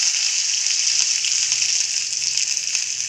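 Garlic cloves, ginger and a large onion frying in hot oil, a steady bright sizzle with faint crackles, close and continuous with no voices.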